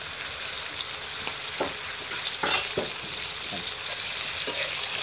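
Catfish and oyster sauce being stir-fried in a wok, with a steady bright sizzle and occasional scraping knocks of the spatula, close and continuous with no talking.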